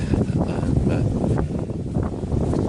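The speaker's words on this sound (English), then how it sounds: "As you can see, it's just been raining and it's very windy." Strong wind gusting outdoors just after rain, buffeting the microphone with a dense, rumbling roar that holds steady and loud throughout, with no voices.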